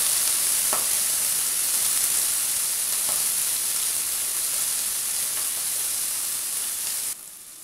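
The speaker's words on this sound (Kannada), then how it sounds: "ಈಗ ಹಸಿಮೆಣಸಿನ್ಕಾಯಿ ಈರುಳ್ಳಿ ಕರಿಬೇವು ಚೆನ್ನಾಗಿ ಹುರಿಯೋಣ" Mustard seeds, green chilli, onion and curry leaves frying in hot oil for vermicelli upma, a dense steady sizzle with a couple of faint stirring knocks, no voices.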